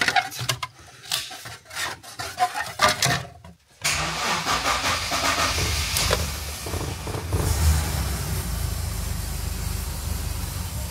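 A BMW 325i E36 engine cranks with a rapid rasping starter whir for several seconds, catches, and settles into a steady, close idle rumble.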